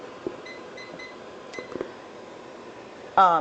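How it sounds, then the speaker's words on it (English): A kitchen timer is set while homemade cranberry sauce cooks, giving a few quick, faint electronic beeps in a short run against quiet kitchen background, followed by a brief louder sound at the end. "Let me just set my timer so I'll remember."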